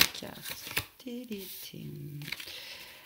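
A tarot card is drawn from the deck with a brief papery rustle and snap, heard under someone speaking close by.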